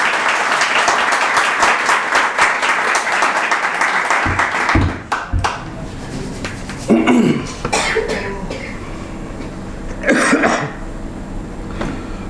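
A church congregation applauds loudly in sustained, dense clapping that fades out. A few coughs and throat clearings follow in a quieter, echoing hall.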